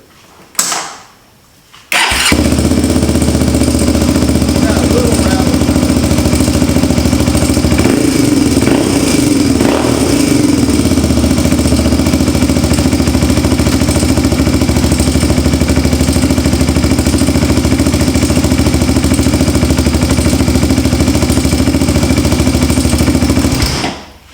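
A Honda 400EX quad's engine fires up and runs steadily at a loud, close idle for over twenty seconds, a constant throbbing drone that cuts off at the end.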